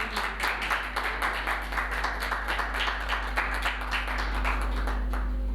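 An audience applauds poet Neelam Ahmad Bashir at a musaira, a dense, steady burst of many hands clapping that holds for several seconds at a fairly close level.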